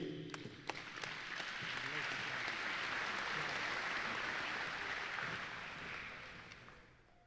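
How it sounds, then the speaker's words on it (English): Banquet audience at a transportation department safety awards event applauds in a sustained wash of clapping that swells, holds steady, then tapers off, with faint voices mixed underneath. "All right, let's give Ennis a round of applause."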